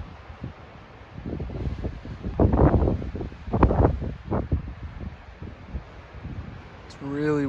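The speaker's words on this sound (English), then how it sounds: "It's really windy out here." Gusts of wind buffet the microphone outdoors on the John Muir Trail, low rumbling bursts that swell and fade irregularly, with a voice starting to speak at the very end.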